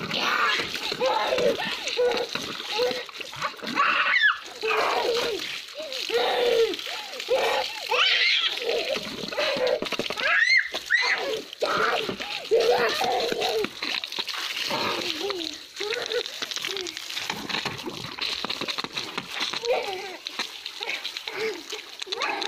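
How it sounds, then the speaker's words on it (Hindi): Children pour and splash water outdoors, with repeated splashes and splatters mixed with their excited chatter, giggles and squeals throughout. "मैं डालूंगा इसको पानी"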